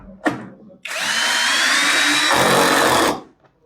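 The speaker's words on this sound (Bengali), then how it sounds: "এই যে টাইট হওয়ার পর একটা নয়েজ করবে টাইট হয়ে গেছে" A GearUP cordless brushless hand drill in screw mode drives a screw tight, giving a short tap, then a loud, close, steady whine for about two seconds that drops in pitch as the screw seats and stops.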